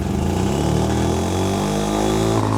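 A single-rotor rotary engine in a Mazda Miata revs steadily, loud and close, with a buzzy, smooth droning tone and no voices.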